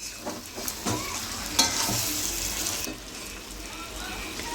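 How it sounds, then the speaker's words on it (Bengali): Hot water is poured into a pot of chicken curry with jackfruit, a steady watery pour and sizzle with a few clinks of stirring, heard close and moderately loud. "এবার আমি গরম জলটা দিয়ে দিচ্ছি"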